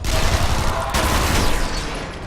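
Rapid gunfire in the sci-fi shooter Interstellar Marines crackles in a loud, close, dense burst of overlapping shots, with a sharp flare of shots near the middle before it trails off.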